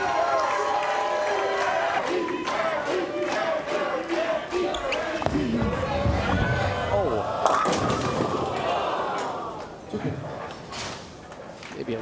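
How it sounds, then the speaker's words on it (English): Crowd at a PBA Tournament of Champions bowling event cheers loudly and steadily, with clattering bursts and commentator talk over the top throughout. "and the crowd comes back to life"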